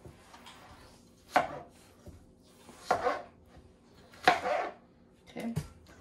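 A sharp knife chops fruit for agua fresca on a cutting board, with four distinct cutting strokes spaced about a second and a half apart, crisp and close against quiet surroundings.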